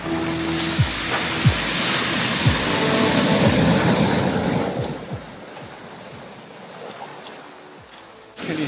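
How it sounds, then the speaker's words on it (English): Waves washing in and out over shingle and pebbles on a beach, a broad continuous rush and rattle of stones with louder surges, easing toward the end. "Hear the noise of the shingle and the pebbles as the waves come in and out."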